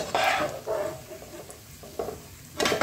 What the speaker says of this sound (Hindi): हमने ये आपको जो ड्राई फ्रूट्स दिखाए थे हम इनको घी में फ्राई करेंगे। सबसे पहले मैं काजू डालूंगी, ये 1 मिनट ही फ्राई करने हैं।